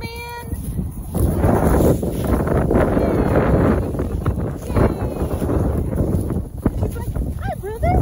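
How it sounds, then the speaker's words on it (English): Strong wind gusts buffet the microphone outdoors in Amarillo, a steady broadband roar with surging bursts, while a voice talks over it and a dog or two can be heard near the end. "And that's the Amarillo wind."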